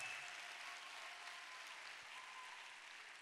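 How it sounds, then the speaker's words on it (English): Applause for a staff team at a youth leadership event: a steady, fairly faint wash of clapping from a crowd, continuous and even throughout with no voices over it. "Do you think I can give them a big round of applause?"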